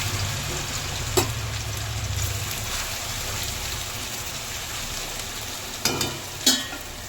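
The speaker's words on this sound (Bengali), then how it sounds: "আলু ভাজা দিয়ে দিলাম।" Potato bhaja fries in hot oil in a wok with a steady, close, rain-like sizzle throughout, broken by a few sharp clacks of a utensil, and no talking.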